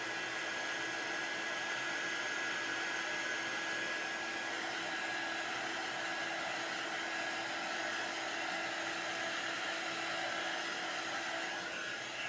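A handheld drying tool blows steadily over a chalk craft project, a constant loud whooshing hum running without break and without talk.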